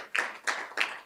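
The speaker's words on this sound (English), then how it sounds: "let's give our staff and our SRO a round of applause" Three brief bursts of clapping from an audience at a school board work session, each short and moderately loud, separated by quiet gaps.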